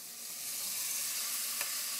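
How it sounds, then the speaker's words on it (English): Beef sizzling steadily in a hot pan after being added over cooked-out flour, a dense broadband hiss that swells slightly and holds, close and alone with no talk. "Hear the sizzle there now again."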